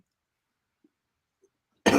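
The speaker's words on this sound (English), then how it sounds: "I'm sorry that I had to cough." A single short, close cough after near silence, with a couple of tiny faint clicks before it.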